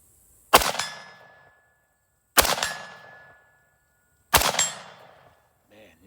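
Three sharp, loud rifle shots fired on an outdoor range through a Primary Arms SLx GenIII 3x prism optic, evenly spaced about two seconds apart, each with a ringing metallic tail that fades before the next.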